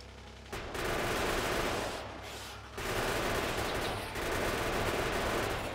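Gun turrets in the video game Factorio fire dense, continuous bursts of rapid automatic shots, loud and close, with two short breaks between the long volleys.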